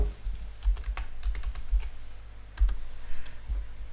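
Keys clatter on a computer keyboard in quick irregular bursts of clicks, fairly close, with no voices.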